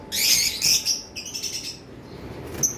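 Pet lovebirds and budgies at a bird seller's place chirp and tweet in quick, shrill bursts, close and fairly lively, with no talking.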